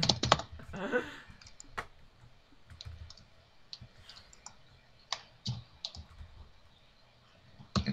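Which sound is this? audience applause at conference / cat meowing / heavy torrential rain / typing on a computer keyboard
typing on a computer keyboard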